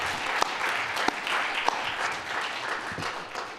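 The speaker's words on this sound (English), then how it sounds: "Please, not done clapping yet." An audience at a live storytelling event keeps clapping after a performer finishes, a steady mid-level wash of applause with a few louder individual claps popping out.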